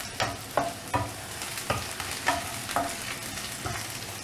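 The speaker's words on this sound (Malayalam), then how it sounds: "പച്ചമുളക് ഇടുന്നു," Green chilies fry in a pan over a medium flame. A steady sizzle runs underneath sharp, regular scrapes of stirring, about two per second, close and clear with no talking.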